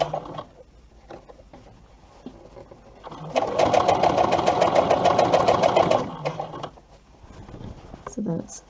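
A sewing machine runs in one steady burst of rapid, even stitching lasting about three seconds, close and fairly loud, with quieter handling sounds before and after.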